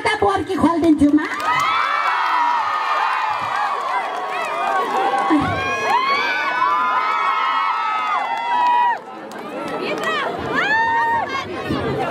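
An audience cheers and whoops loudly, many excited voices rising and falling together in a sustained roar that dips briefly before swelling again.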